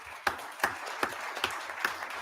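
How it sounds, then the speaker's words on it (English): Audience applause at a school board meeting, a steady wash of clapping from a crowd with a few sharper individual claps standing out at regular intervals. "they owe a huge round of applause"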